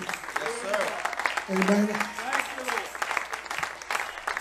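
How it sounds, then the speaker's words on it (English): A handful of people clapping in a church, scattered light claps under a preacher's loud voice and a spoken response from the congregation. "I got a few claps"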